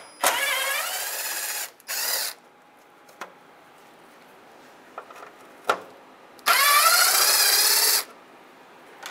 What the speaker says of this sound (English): So we're going to head and remove these quarter-inch screws.